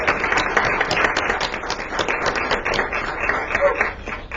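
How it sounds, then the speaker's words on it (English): An audience claps at a land acknowledgment ceremony, a lively patter of many hands that is fairly loud and close and rises and falls slightly over a few seconds. "Can we give them another round of applause?"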